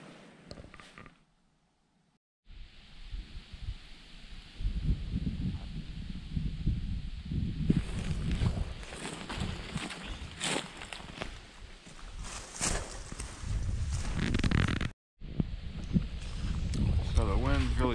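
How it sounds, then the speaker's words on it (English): Strong wind roars at a canyon mouth on a mountain hike, gusting loudly against the microphone in surging waves. There are brief drops and one short silence, and no voice is heard. "So the wind's really picking up."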